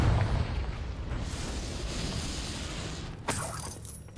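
Confringo, an explosive spell in Hogwarts Legacy, is heard as a low rumble followed by a sharp crackling burst near the end, with a short bright shattering tail.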